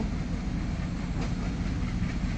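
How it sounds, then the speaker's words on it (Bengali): A slow freight train rumbles past nearby, a deep low roar with faint rhythmic wheel clatter on the rails. "আসলে এটা একটা মাল গাড়ি, এই জন্য অনেক ধীরে ধীরে আসছে।"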